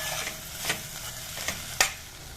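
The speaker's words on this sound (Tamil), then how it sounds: "நார்த்தங்காய் நல்லா வதக்கி இருக்கு." Citron (narthangai) pieces sautéing in a pan, a steady sizzle with several sharp scrapes and knocks of a spatula at irregular intervals, close and fairly quiet.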